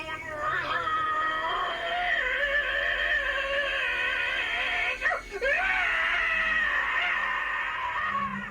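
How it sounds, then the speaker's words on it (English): A man screams and wails in pain during a home-recorded hypnotic regression session, a long, loud, sustained cry with one brief break in the middle. "He was literally screaming so loud that he could not hear me give him suggestions to ease the pain."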